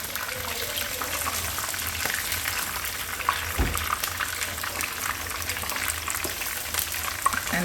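Tilapia pieces fry in a pan with a steady, dense sizzle that runs throughout, broken by a few soft clinks and stirring noises.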